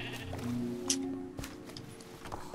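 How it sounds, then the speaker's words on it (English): Sheep bleating in the Minecraft video game, several short nasal bleats under a steady game background with faint other clicks and tones. "He's got lots of red sheep."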